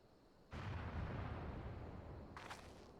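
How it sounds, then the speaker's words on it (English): Cannon fire in Final Fantasy XIV: a sudden heavy boom cuts in after a quiet start and rolls on as a sustained rumbling blast, with a second crackling burst layered on top near the end. "Cannon fire!"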